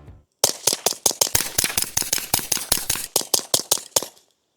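Rapid string of sharp supersonic .22 rimfire shots through a Replicator ACER suppressor, about twenty crisp cracks in quick even succession, close and loud with no talk.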